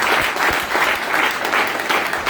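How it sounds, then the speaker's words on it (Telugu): Big round of audience applause at a Telugu talk on financial freedom, a dense, steady wash of many hands clapping throughout, fairly loud and close, with no speech over it. "ఆయనకు ఒక్కసారి బిగ్ గ్రౌండ్ ఆఫ్ అప్లాజ్ చేయండి సార్"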